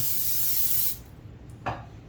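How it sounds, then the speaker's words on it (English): Liquid is sprayed onto the fat cap of a raw brisket, a steady close hiss lasting about a second, then one short second burst. "Once again, I'm gonna spray it real quick."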